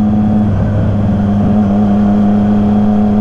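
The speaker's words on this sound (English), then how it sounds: "Once you rev it, it's like got louder." A 2020 Triumph Street Triple RS motorcycle engine runs close and loud on a break-in ride, holding a strong, even drone with a steady pitch for a few seconds and no talking.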